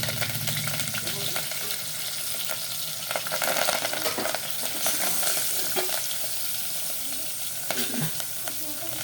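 Green chillies, ginger-garlic paste and curry leaves sizzle in hot oil during tempering for okra pulusu, a steady loud crackle with occasional stirring scrapes and brief pops, no talking over it.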